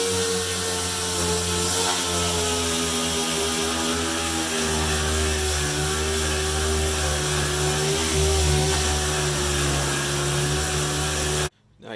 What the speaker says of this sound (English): So now I'm going to sand this with a dual action sander